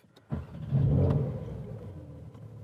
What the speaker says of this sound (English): Let's get the car started in Porsche form.